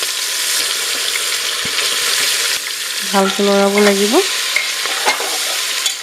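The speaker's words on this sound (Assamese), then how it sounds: "মাংসখিনি দি পেলাই ভালকৈ লৰাব লাগিব।" Meat sizzles loudly in a pan while being stirred, with scraping strokes and a brief tonal squeak partway through.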